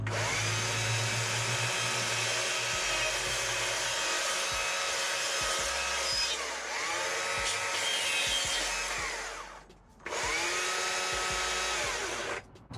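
Chainsaw carving a sunflower from wood, the engine buzzing steadily at high revs while cutting, dipping briefly near the end before revving up again, loud and close with no talk.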